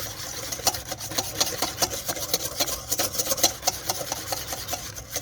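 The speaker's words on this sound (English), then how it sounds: "So we're just gonna keep whisking, keep whisking." A whisk scrapes rapidly and rhythmically around a bowl of hollandaise sauce, with quick, even strokes, close up and moderately loud.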